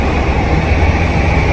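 A train passes close by outside a sneaker release line in Japan, a loud, steady low rumble with rolling rail noise filling the whole moment, with no talk over it.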